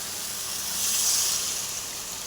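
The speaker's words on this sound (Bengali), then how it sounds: "এবার জল দিয়ে দিব।" Water poured into a pan of cooking rohu fish curry with aubergine makes a soft, bright hissing splash that swells briefly in the middle, then settles into a gentle fizz.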